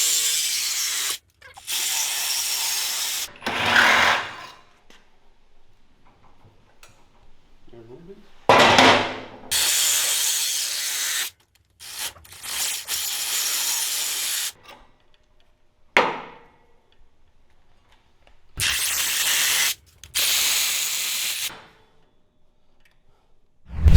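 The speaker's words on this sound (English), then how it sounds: "So let me grab my Sawzall." A Sawzall reciprocating saw cuts through the steel swing arm frame of a Coleman B200R mini bike with a 420cc Big Block engine. It comes in several loud, harsh bursts separated by quiet pauses with faint handling noise, and someone speaks briefly.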